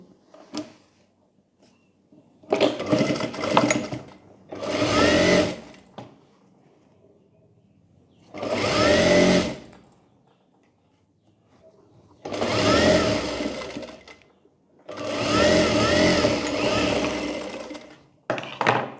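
A sewing machine stitching a frill onto a baby romper, running in five bursts of fast mechanical whirring separated by pauses, close and loud with no talk.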